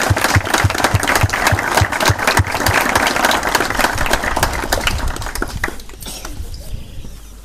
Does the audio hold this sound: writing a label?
no